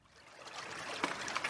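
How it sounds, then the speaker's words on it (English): Main sewage outflow at the Stowhill Copse crude sample point for Southampton, flowing like a babbling brook: a steady, moderately loud trickling and gurgling of running water that gradually swells, with no voices. "It may sound like a bucolic, babbling brook, but this is the main sewage outflow from the city of Southampton"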